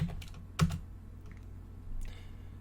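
Quiet typing on a computer keyboard, a short run of soft clicks with one firmer keystroke, over a steady low background hum.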